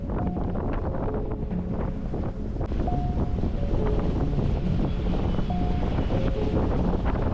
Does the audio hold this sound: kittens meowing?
no